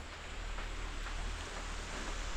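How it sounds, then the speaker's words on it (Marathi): Light drizzling rain patters softly and evenly near a Konkan house under construction, a faint continuous hiss with a low hum beneath. "आता मात्र पाऊस रिमझिम रिमझिम पडायला लागला आहे"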